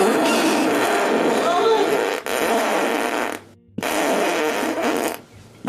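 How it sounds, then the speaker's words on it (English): A woman's loud, extended fart inflating a condom: a long raspy, blaring blast that breaks off briefly twice and then resumes, close and forceful. "she literally did blow up the condom with that very loud extended ripper of hers"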